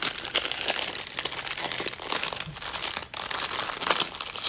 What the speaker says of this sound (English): Let's go unwrap it. Take it out of the packaging.